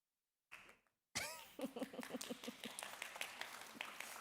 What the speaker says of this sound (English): Didn't expect you to clap, but thank you.